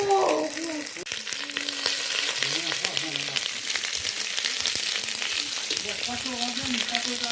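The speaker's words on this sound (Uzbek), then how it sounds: "Qozonga mana dumbada yog' chiqishi boshladi" Sheep tail fat renders in a kazan for plov over an open fire, producing a continuous close sizzle and spatter with faint voices in the background.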